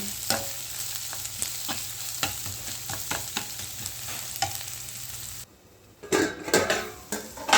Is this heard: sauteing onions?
yes